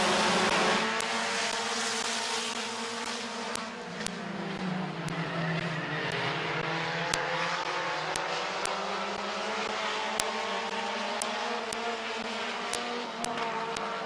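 Race cars roar steadily around Midvale Speedway, a continuous loud engine drone with layered overlapping motors and no break in the noise.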